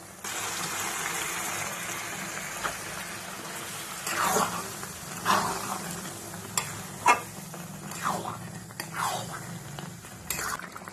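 Masala for egg tarka fries in a pan, a soft steady sizzle broken by sharp scraping and clinking stirs, close and moderately quiet, with no talking.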